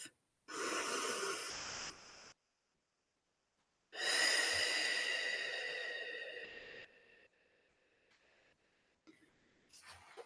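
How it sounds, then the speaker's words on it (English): A long, steady breath lasting about two seconds, then a pause, then a longer, louder exhale of about three seconds that fades away. The breath is close and heard alone, with faint rustles after it. "take a deep breath. Inhale through the nose, exhale through the mouth"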